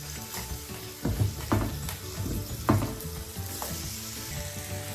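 Tuna sizzles and fries in a pan, a steady crackle with several sharper bursts as pieces are laid in and stirred, fairly close and with no talking over it.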